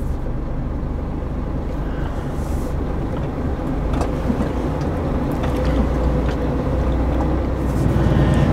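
A Scania R450 New Generation truck drives with a steady, low engine rumble and road noise heard from inside the cab, growing slightly louder toward the end with no one talking.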